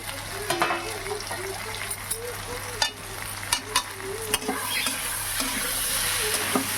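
Spice masala with potatoes, colocasia and eggplant frying in a pan, a continuous sizzle punctuated by repeated scraping and knocking of a spoon stirring, close up, with brief faint voice murmurs.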